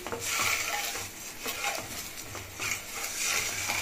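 Drumstick egg masala with chili powder fries in a pan while a spoon stirs it. A soft sizzle runs throughout, with repeated scraping and light clinks of the utensil against the pan and no talk.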